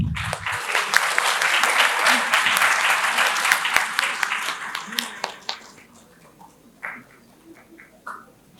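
Loud audience applause fills a panel-discussion hall after a ceremonial lamp lighting, sustained for about five seconds and then tapering off into scattered claps and quiet room noise.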